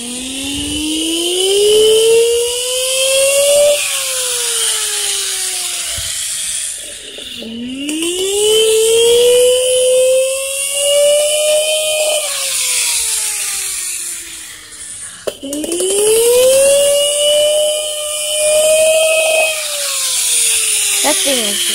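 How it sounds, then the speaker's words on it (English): A loud toy siren wails in three long rising-and-falling sweeps, each cycle climbing in pitch then dropping, with a mechanical whir underneath. "We'll see if this toy sounds like a legit siren."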